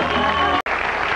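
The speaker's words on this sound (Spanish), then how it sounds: "Un aplauso" A studio audience applauding on a TV game show, a dense burst of clapping from a crowd that cuts off sharply for a moment midway, then resumes.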